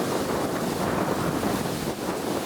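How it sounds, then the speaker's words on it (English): Strong steady west wind roars continuously against the microphone during a Massachusetts deer hunt, a dense unbroken rush with a faint watery wash beneath it. "it is quite windy out"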